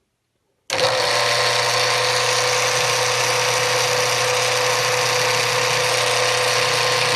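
A water-fed core drill whirs to life and runs steadily while boring into chrysocolla stone, a loud continuous high-pitched whine with a low hum beneath, holding even from start to finish.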